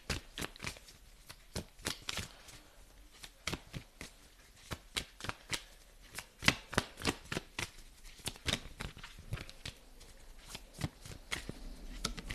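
Tarot cards being shuffled by hand, a run of crisp, close riffling snaps and flicks in an irregular rhythm, fairly quiet, with no talk over them.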